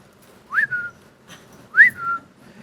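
A person whistles two rising-then-falling slides about a second apart, clear and close with no other sound, imitating a whistling snake.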